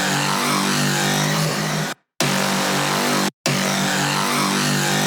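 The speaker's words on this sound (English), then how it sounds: "but with the flanger it sounds a lot better" A thick, swirling horn sample with a sweeping flanged tone plays loudly, cut by two short silent gaps.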